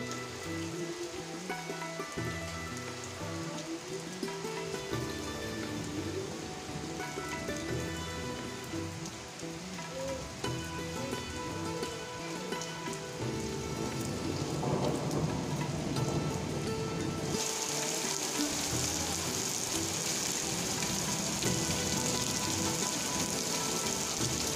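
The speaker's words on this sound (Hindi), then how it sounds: "यहाँ बारिश शुरू होने लग गई है 3 बजे से" Steady rain pours down, a dense hiss of drops on surfaces that swells louder and brighter toward the end, with a low rumble underneath.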